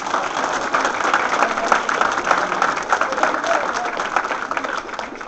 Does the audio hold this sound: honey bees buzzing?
no